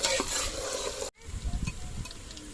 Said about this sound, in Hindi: और अभी मैं कर रही हूँ प्याज ब्राउन।